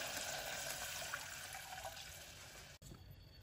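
Water pours into a pot while bagara rice (spiced Hyderabadi rice) cooks, a continuous close splashing stream that stops abruptly near the end, with no talk.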